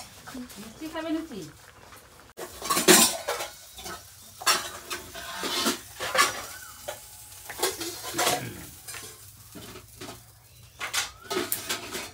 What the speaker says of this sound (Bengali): এখানে মেশো ভাজছে লুচি, কত লুচি ভাজা হয়ে গেছে, ফুলকো ফুলকো লুচি।